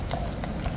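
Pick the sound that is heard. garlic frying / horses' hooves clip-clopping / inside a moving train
horses' hooves clip-clopping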